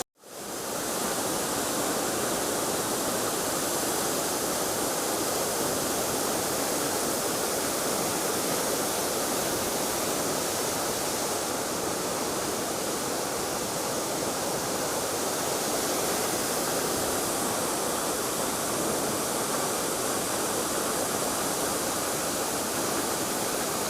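Rushing water of Punnayar waterfall in Idukki pours in a dense, unbroken roar that stays loud and steady throughout, close by and with no voices.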